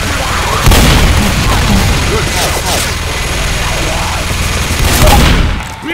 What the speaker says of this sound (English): Bill, quit shooting me!